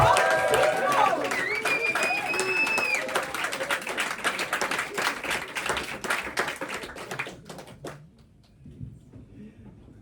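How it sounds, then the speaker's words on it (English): An audience at a comedy show applauds and cheers for comedian Colin Seagrove, with loud sustained clapping and whoops that thin out and fade to quiet, mixed with a voice over a PA. "please get your hands together, please. And it's a whooping cheer on fantastic Colin Seagrove"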